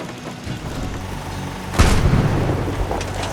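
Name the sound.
junk mortar firing in Fallout 4 video game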